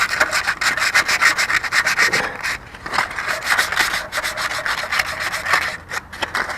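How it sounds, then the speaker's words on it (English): A Craftsman tractor part is scuffed with 220 grit sandpaper in fast, loud, close rubbing strokes, a rapid rhythmic rasp with a short pause near the middle and no talk. "220 grit sandpaper, and I just kind of scuff it up,"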